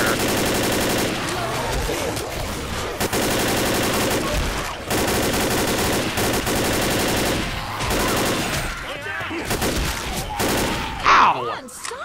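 Rapid gunfire from the video game Left 4 Dead rattles in sustained automatic bursts with brief gaps, loud and close, while players talk over the shooting.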